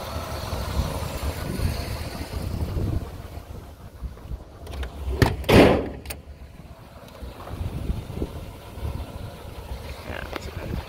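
A Cadillac Eldorado convertible drives down a runway on a hot day, with steady wind rush and road roar throughout and a louder gust burst midway, a voice faintly audible underneath.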